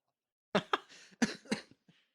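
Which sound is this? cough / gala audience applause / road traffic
cough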